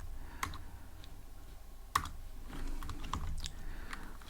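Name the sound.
typing code on a computer keyboard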